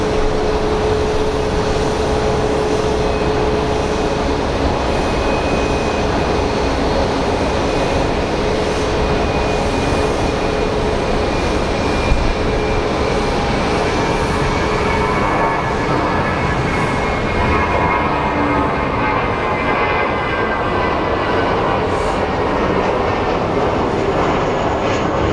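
Airliner on an Albuquerque flight at Phoenix Sky Harbor airport, a steady loud jet engine roar with a slow tonal whine, continuous for about twenty-five seconds with no talk.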